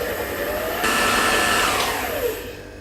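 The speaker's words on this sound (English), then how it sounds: "just give it another quick whisk" An electric whisk whirs continuously through pavlova mixture, a loud close motor drone that steps up in pitch partway and then winds down near the end.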